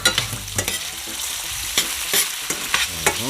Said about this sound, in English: I just go and saute the onion a bit.